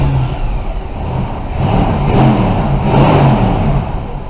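A 1977 Ford Thunderbird engine with freshly replaced spark plugs revs up and down near the exhaust, a throaty V8-style rumble rising in two swells over a steady idle, loud and close with no talking.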